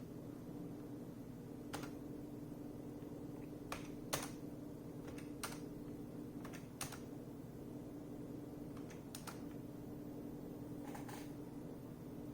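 Keys on a computer keyboard are pressed one at a time, including tab and spacebar, a sparse series of sharp close clicks spaced out over a quiet room hum.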